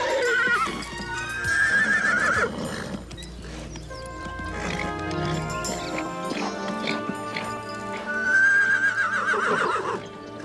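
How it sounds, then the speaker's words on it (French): A horse whinnies loudly and close at the start and again near the end, with hoof clip-clops and stamping in between, mixed with background sounds. "Monsieur Stanway, un cheval vicieux ne se comporterait pas comme lui?"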